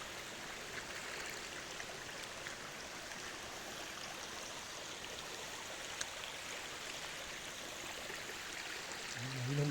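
A natural mountain stream flows downhill near Kut Chum in Yasothon, Thailand, making a steady, broadband rushing hiss that holds even throughout without voices.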